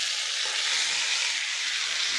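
Boiled taro stolons go into spice paste frying with dried fish, giving a loud, steady, even sizzle that holds throughout with no talking.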